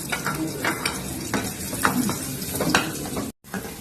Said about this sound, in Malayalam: ഇനി നമുക്ക് ചെറിയ ഉള്ളി കൂടെ ഒന്ന് മൂട്ടി ചേർക്കാം